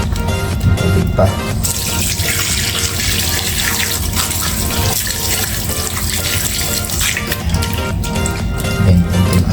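Tap water runs steadily into a container to soak fish for homemade dried fish, a continuous rushing flow heard throughout with faint background sounds.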